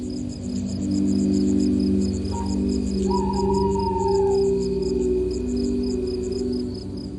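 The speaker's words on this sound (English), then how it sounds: "You can hear the crickets and a lonely owl sitting in a rustling tree." Crickets chirp at night in a steady, continuous pulsing chorus that stays at an even, moderate level throughout, with a faint tonal sound briefly in the middle.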